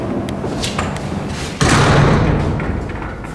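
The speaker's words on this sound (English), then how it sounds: "let's shut the door" A vintage 1969 Kone traction freight elevator door is shut, rustling and handling followed by one heavy slam and thud, then a lingering metallic rumble, close and loud with no talk.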